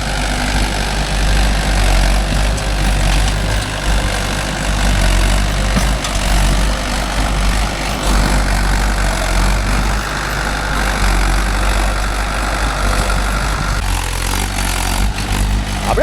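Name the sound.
tractor engine running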